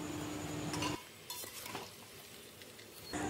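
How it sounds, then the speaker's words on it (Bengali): Potatoes fry in oil in a pan with a steady sizzle, broken by brief stirring clatter in the middle before the frying noise swells again. "আলুগুলো তেলে দিয়ে দিলাম। এবার নুন আর হলুদ দিয়ে ভালো করে লাল লাল করে ভেজে নেব।"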